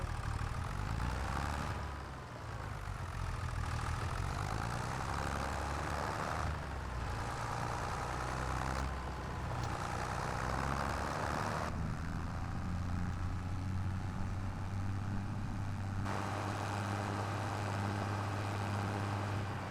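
Cheap tractor engine idling in a farming video game, a steady low drone that holds throughout with slight shifts in tone and no voices.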